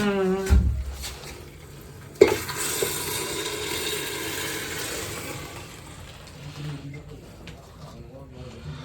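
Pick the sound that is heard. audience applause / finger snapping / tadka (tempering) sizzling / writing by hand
tadka (tempering) sizzling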